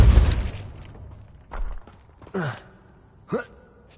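Spell impacts from Depulso cast in Hogwarts Legacy: a heavy booming thud at the start, then two further short whooshing bursts spaced about a second apart, fairly close and alone.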